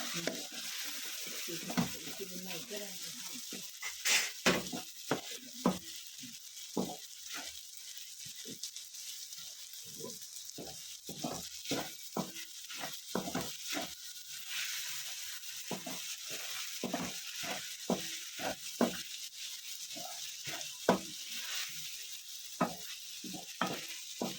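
Chicken macaroni stirred with tomato ketchup in a frying pan, a low steady sizzle under frequent rhythmic spatula scrapes and clacks, fairly quiet and without speech.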